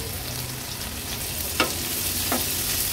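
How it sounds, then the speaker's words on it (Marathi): Green chillies frying in oil in a pan, cooked on both sides, give a constant dense sizzle close up, broken by two brief clicks of a utensil, with no talk. "दोन्ही साइडनी अगदी व्यवस्थित आपली ही मिरची फ्राय करून झाली आहे"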